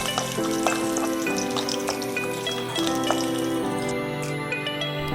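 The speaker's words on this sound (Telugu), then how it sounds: "3 స్పూన్లు ఆయిల్ వేసి అల్లం, వెల్లుల్లి, జీడిపప్పు కొద్దిగా వేగిన తర్వాత" Ginger, garlic and cashews frying in about three spoons of oil in a pan, giving a steady close sizzle. A few light drips sound over it, and sustained tonal hum lines run underneath.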